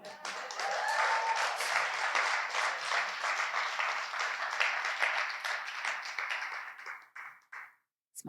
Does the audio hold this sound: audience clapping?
yes